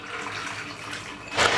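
Drained chana dal dropped into hot oil sizzles with a steady, close hiss that swells into a louder, brighter burst near the end. No one speaks.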